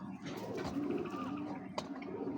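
Dhaka Sobuj green pigeons, an old domestic breed, give low, rolling coos close by, repeated over a murmur of background noise.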